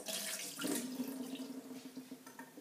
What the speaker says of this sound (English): I will now dump each cup of whatever was in it